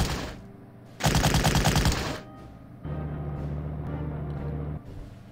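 A short burst of rapid automatic gunfire from Waffen SS troops in the WWII strategy game Battle Academy 2 rings out loud for about a second. A steady low engine drone, likely their Puma armoured car, follows.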